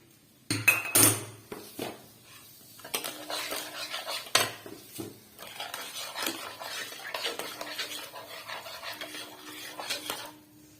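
A hot caramelised mixture for a fruit cake is poured into a pot, with loud metallic clanks of utensil against pot at the start, then irregular close scraping and knocking that continues to the end.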